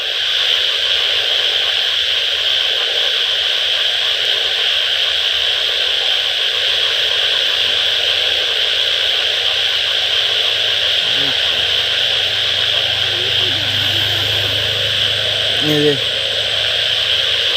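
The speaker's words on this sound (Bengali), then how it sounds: "কি পরিমাণে আওয়াজটা হচ্ছে ব্যাঙের" A dense, loud, continuous chorus of frogs calling, a steady buzzing drone that holds throughout with no pauses.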